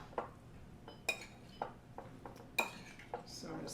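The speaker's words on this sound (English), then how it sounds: "So I'm just going to stir that up." A metal spoon stirs a fruit salad of strawberries, pineapple and oranges in a bowl, giving about eight sharp clinks at irregular intervals against the bowl with soft wet shuffling between them, fairly close and moderately loud.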